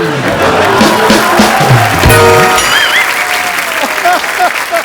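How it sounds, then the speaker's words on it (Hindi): A television comedy show studio audience bursts into loud, continuous clapping and some cheering, close and dense, with voices and music audible beneath the applause. "एक बार अनुष्का के लिए जोरदार तालियां।"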